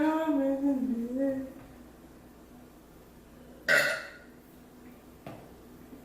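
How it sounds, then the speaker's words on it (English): Someone burps after a mukbang eating session, with a single short, loud belch standing out midway and a fainter one later, amid a quiet room, following a brief stretch of voice at the start. "I can't stop burping."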